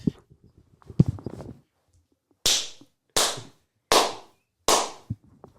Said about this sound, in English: Clap them cheeks one time